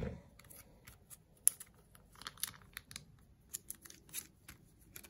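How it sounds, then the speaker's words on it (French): Small scissors snip off a little piece of material, the quiet clips and crinkles coming close and sparse over soft background hiss, with one sharp snip standing out. "Je coupe un petit bout."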